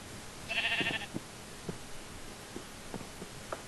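A sheep in the Minecraft Tekkit Lite modpack gives one clear bleat, followed by faint clicks and soft in-game footsteps against a quiet background hum.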